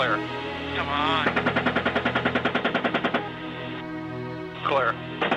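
Helicopter gunfire engaging targets comes as a long, rapid burst of regular shots, heard through a radio-like channel with a steady rotor drone beneath, while voices talk over radio before and after the burst.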